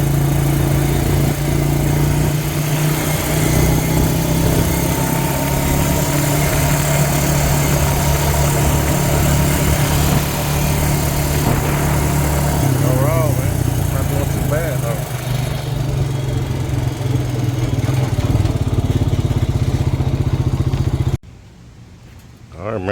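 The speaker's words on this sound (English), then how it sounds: "Still sputtering a little bit, I mean, it's running alright. It's a carbureted bike" Carbureted Honda Rancher ATV engine running steadily at idle with a faint unevenness, a close, continuous mid-pitched drone under someone talking, cutting off abruptly near the end.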